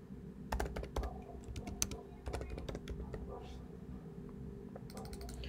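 Rapid bursts of keystrokes on a computer keyboard, clustered clacks with short pauses between, close and fairly quiet, with soft speech faintly underneath.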